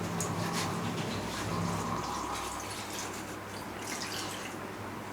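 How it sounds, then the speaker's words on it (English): Water trickles and drips softly into a pot, a faint splashing pour lasting several seconds. "So I like to add a little water"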